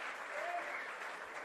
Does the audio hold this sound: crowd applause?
yes